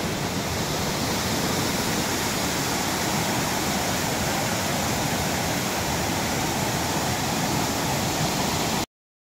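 Dahoyhoy waterfall in Mauban, Quezon, a loud continuous roar of falling water, dense and unbroken from start to abrupt end, with no voices.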